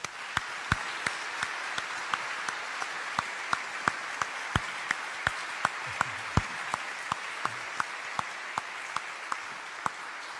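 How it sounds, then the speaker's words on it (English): An audience at a book tour event claps steadily, with crisp individual claps punctuating a continuous background of applause that stays even throughout. "Thank you for clapping."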